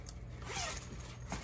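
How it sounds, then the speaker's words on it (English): Zipper on a fabric compression packing cube being drawn in a short, close rasping pull, followed by a brief second zip. "zipper here that is the compression part"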